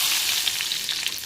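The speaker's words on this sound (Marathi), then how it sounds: "चला तेल टाकून घेतले. आता जिरे टाकून घेऊया." Cumin seeds sizzle sharply in hot oil, a dense crackling hiss that stays loud and steady for a moment with small pops scattered through it, and no voices.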